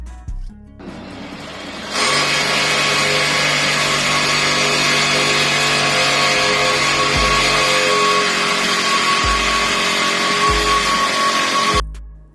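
A power tool cuts 3 inches off a steel winch bumper mount for a Toyota Land Cruiser FZJ80. After a quieter start, a loud continuous grinding whine runs for about ten seconds with brief dips, then cuts off.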